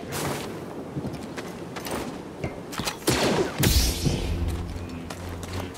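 Blaster fire in the Star Wars Jedi: Fallen Order video game, with a few sharp shots and bursts that cut through a busy mix of action effects and rumble, climaxing in a loud cluster of blasts near the end.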